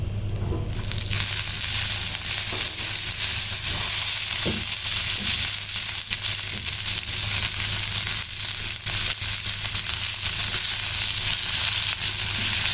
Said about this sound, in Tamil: இதை கொஞ்சம் நல்லா வதக்கிடலாம்